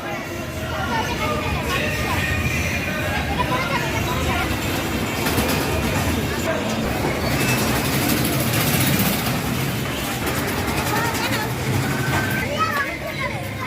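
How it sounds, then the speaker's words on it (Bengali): Fantasy train kiddie ride rolling along at Dream World amusement park, its low rumbling engine under constant crowd chatter and children's voices, with a person talking nearby throughout. "এখানে আছে ফ্যান্টাসি ট্রেন।"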